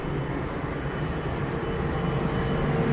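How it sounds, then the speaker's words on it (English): A 24-year-old Boeing 737-700 arriving from Stansted touches down at Manchester Airport, a loud, steady roar of engines and rushing air with no break in the noise. "that aircraft touching down from Stansted, 737-700 series"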